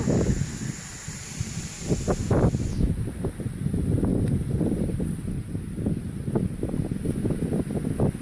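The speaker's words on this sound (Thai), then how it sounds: "ลมแรงแล้ว" Strong, gusty wind ahead of an approaching rainstorm outdoors, rumbling and buffeting the microphone in uneven bursts without a pause.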